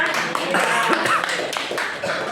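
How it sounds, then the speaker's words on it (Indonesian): A church congregation claps together during a Sunday service, a dense patter of hands that runs steadily for a couple of seconds with voices mixed in. "Luar biasa, tepuk tangan ya."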